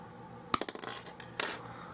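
Thick copper spring wire being snipped with cutters: a sharp metallic snap followed by a few quick light tinkling clicks as the cut piece drops, then a second small clatter, faint and close.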